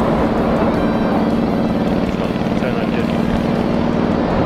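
A Kawasaki Vulcan VN800 motorcycle cruises along an expressway, its engine and wind roar steady and loud across the whole stretch, with a constant drone and no break in the noise.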